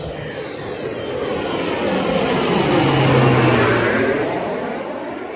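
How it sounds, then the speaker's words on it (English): A jet airplane taking off from a nearby airport in New Orleans roars overhead, swelling to a loud peak midway and then slowly fading, a continuous engine rumble with no voices. "We got another plane about to take off behind us."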